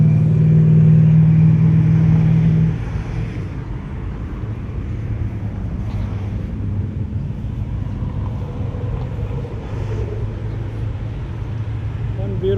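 A 1967 Mercury convertible cruises along a street in Ferndale during the Woodward Dream Cruise, its engine giving a steady, loud rumble that eases after a few seconds into a continuous lower drone of passing traffic.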